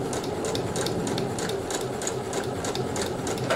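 A sewing machine stitches steadily through fabric for a nautical cushion, its rapid needle rattle running close and continuous with no pauses.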